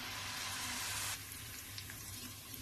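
Onion sautéing in a pan for an aloo gobi, a steady broadband sizzle with a fainter, quieter stretch of frying after an abrupt drop partway through, close and without voices.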